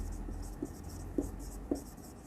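Faint scratchy strokes of writing on a board, with a few soft taps spaced about half a second apart over a low background hum.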